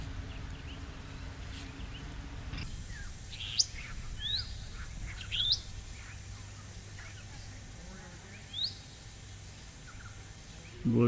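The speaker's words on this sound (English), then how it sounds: "Blue-faced honey eater." Blue-faced honeyeater calling in the Australian bush, with several short, sharp upslurred notes scattered through a busy backdrop of other bird chatter, insect buzz and low rumble, fairly close and moderately loud.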